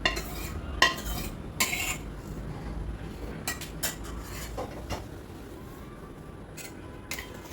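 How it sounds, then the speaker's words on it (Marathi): A spoon stirs and mixes oil through homemade raw mango pickle, giving repeated close scraping and clinking against the container over a soft steady background. "छान सगळं मिक्स करून घ्यायचं आहे"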